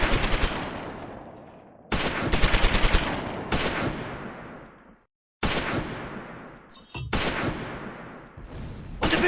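Machine gun and rifle fire in the Close Combat 4 war video game at Baugnez, Battle of the Bulge, 1944: loud rattling bursts and single sharp cracks, each trailing off in echo, repeating in separate volleys with brief gaps between them.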